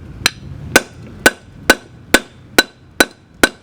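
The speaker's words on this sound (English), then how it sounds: "take a hammer to it to loosen it up." Eight sharp metallic hammer blows land at an even, steady pace on a rear brake rotor of a 2010-14 Toyota Prius, each ringing briefly before the next.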